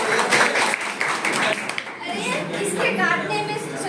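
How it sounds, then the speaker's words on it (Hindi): Scattered hand clapping from a small crowd at a street play about malaria prevention, blending with chatter and voices throughout. "अरे ताली बजाओ।"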